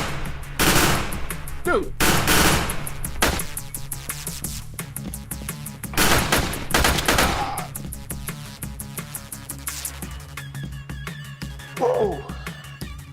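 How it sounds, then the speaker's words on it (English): Video game gunfire roars in dense bursts of rapid automatic shots and explosions across the whole stretch, loud and close, with a player's brief exclamation over it. "These people shooting me from nowhere."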